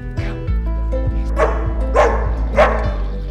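A dog barks three times in quick succession, loud and close, over a steady low hum, during puppy training with inmates in a prison.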